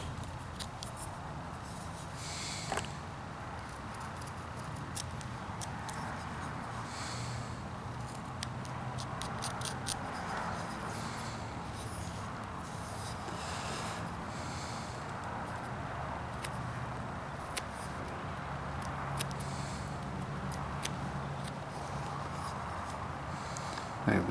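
A knife whittles a block of wood, cutting off the ends with a steady, quiet scraping and shaving texture, dotted with small clicks and tiny snaps of blade against the wood.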